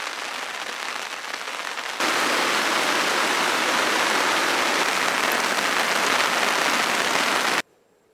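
Steady rain falls in woodland during a canoe camping trip, a dense continuous hiss that jumps louder after two seconds and holds evenly before cutting out near the end.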